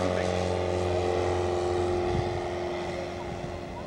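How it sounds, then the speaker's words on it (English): Microlight aircraft at the Sywell Airshow, its steady engine and propeller drone holding at a constant pitch throughout, close and fairly loud, with crowd and background noise mixed in. "This Microlite has got about 40 mile an hour takeoff speed"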